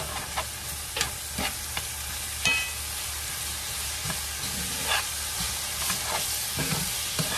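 Garlic sizzling in a pan while cooking picadillo, a steady moderate sizzle punctuated by regular spoon scrapes and taps from stirring, with no talking.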